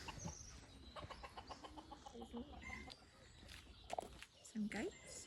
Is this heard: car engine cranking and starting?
no